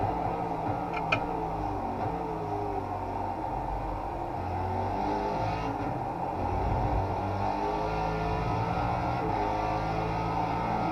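A Ford GT3 race car in the iRacing simulator drones steadily through corners, its engine holding a continuous mid-pitched hum with slight rises and dips, close and even throughout with no talk.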